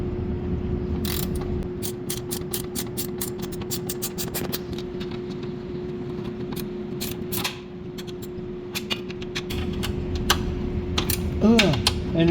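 A long-reach box wrench ratcheting on 14mm bolts of a second-generation Lexus IS350/250 upper control arm, a steady close clicking rattle with a faint hum beneath, in repeated bursts.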